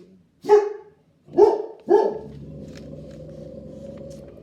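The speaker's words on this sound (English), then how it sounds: "Dogs go arf." A dog barks three times, sharp and close, with short gaps between, followed by a low sustained hum.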